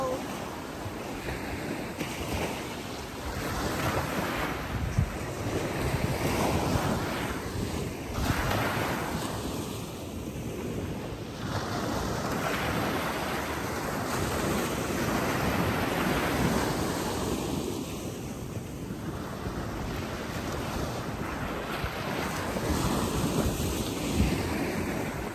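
Ocean waves at Kuantan, Malaysia surge and crash onto the shore in a continuous roar that swells and ebbs, loud and close, with wind buffeting the microphone and a faint voice underneath.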